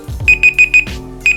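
A timer alarm sounds during a test of QC 3.0 phone chargers: four sharp, evenly spaced electronic beeps, a short pause, then another pair of beeps, loud and close with no talking.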